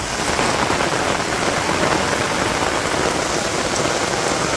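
Steady, dense rain pours over a Bangladesh village during the rainy season, a loud even hiss of drops drumming on surfaces with wind, continuous and close with no voices.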